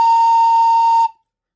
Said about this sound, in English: Thomas whistled loud and long